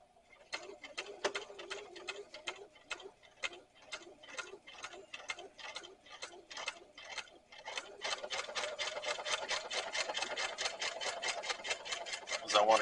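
A sewing machine stitches a rifle carrier, first in slow, evenly spaced needle thumps and then speeding up into a faster, denser run of stitches, heard close and clear.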